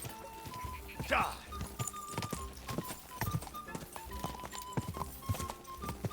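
Rhythmic horse hoofbeats clatter steadily, with a short whinny early on, over Kingdom Come: Deliverance 2 game music and a voice speaking throughout.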